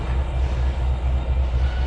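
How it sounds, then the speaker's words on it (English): Train braking in the Trainz 2022 railway simulator, a steady low rumble of rolling rail cars with a continuous droning hum at close range. "Put on a little train brake there."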